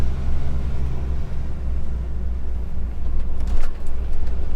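A car drives along a road from Bridport toward the A303, heard from inside. Its steady low engine and road rumble continue throughout, close and fairly loud, with no talking.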